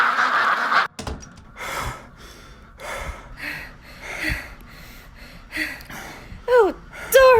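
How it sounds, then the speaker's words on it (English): A crowd of ducks in an animated adventure quacks loudly in repeated short bursts, with a few gasping sounds mixed among the calls. "The ducks are too loud."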